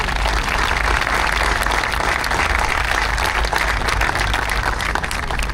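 Dense, loud crowd applause at an outdoor Vietnam Veterans Day memorial parade for a city council member, a steady unbroken roar of many hands sustained throughout.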